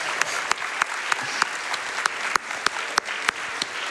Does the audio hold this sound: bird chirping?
no